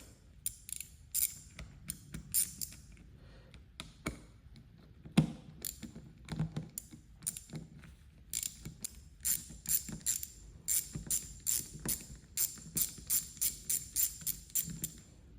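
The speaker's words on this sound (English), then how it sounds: "we'll just kind of loosen these and then hit them with the ratchet" A ratchet loosens headlight bolts on a 1999 C5 Corvette pop-up light, giving quiet, close clicking bursts that start sparse and irregular and then grow into faster rhythmic runs of pawl clicks.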